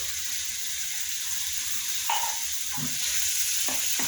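Canned fish being stirred and mashed in a hot frying pan with fried shallots, a continuous sizzle under scraping and clacking utensil strokes that thicken toward the end.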